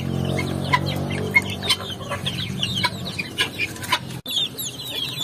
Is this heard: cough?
no